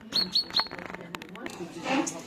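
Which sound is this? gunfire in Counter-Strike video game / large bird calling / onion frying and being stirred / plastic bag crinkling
large bird calling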